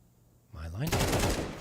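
Gunfire during a Counter-Strike match in an ESEA League game, with a quiet lead-in, then a sudden loud burst of rapid shots that sustains to the end.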